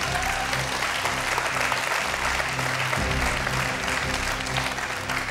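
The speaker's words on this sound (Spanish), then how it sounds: "Y el aplauso del público." Steady applause from a studio audience at a television talk show, dense and continuous throughout with low music or background tones running beneath it.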